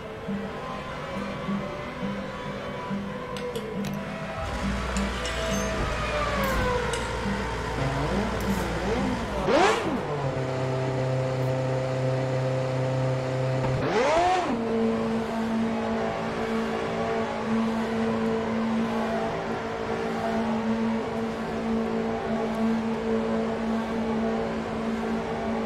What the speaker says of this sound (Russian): Заводи двигатель.